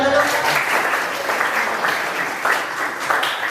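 A group claps enthusiastically in continuous applause with voices mixed in, loud and close throughout, in a classroom.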